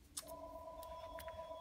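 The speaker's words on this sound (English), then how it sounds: "Oh no, now my phone's ringing." A phone rings faintly in a quiet crafting room, a short electronic trill followed by a steady tone, with no talking over it.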